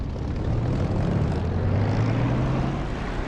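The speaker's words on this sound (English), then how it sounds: "Okay, throttling up." A propeller aircraft engine throttles up in the DCS flight simulator, a loud, continuous droning roar with a steady low hum that builds slightly, without talk.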